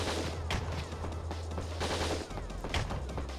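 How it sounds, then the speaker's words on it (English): Rapid video game gunfire from Winback: Covert Operations, a dense, continuous stream of overlapping shots with a steady low mechanical hum underneath, loud and close with no talking. "we're just gonna evade the gunfire as best we can without getting meleeed"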